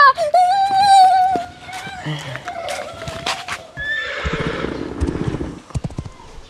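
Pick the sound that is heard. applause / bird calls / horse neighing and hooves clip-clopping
horse neighing and hooves clip-clopping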